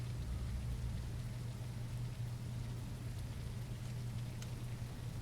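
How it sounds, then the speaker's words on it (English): Steady rain falls in The Isle Evrima, a continuous even hiss with a low rumbling undertone. It runs unbroken and at moderate level, with no voices over it. "it's a good thing it's raining"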